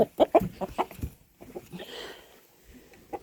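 Several roosters cluck in quick bursts, fairly close, followed by softer scattered clucks and rustling.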